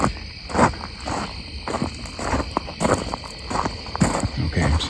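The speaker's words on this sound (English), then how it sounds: "I'm hearing crickets." Crickets chirping at night near Conneaut Creek, a dense continuous outdoor chorus of close, fairly loud chirps with steady pulsing rhythm and no talking.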